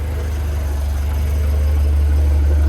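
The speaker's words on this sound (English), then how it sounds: "right now we're idling" A Volvo 740 Turbo engine idling steadily with its fuel pump freshly replaced, a loud, constant low rumble held close with no break.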